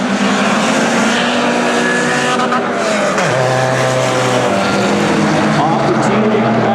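Race cars roar past at Saratoga Speedway, a loud sustained engine drone with a rising and falling pass, under an announcer's commentary.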